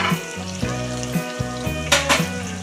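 Prawns fry with curry leaves in a pan, giving a loud, close, continuous sizzle punctuated by regular scraping strokes and a few sharp crackles.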